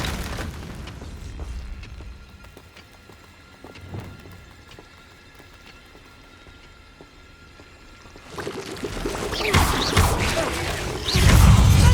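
A Confringo blasting spell in Hogwarts Legacy erupts in loud booming explosions near the end, following quieter thuds and ambient rumble earlier in the game scene.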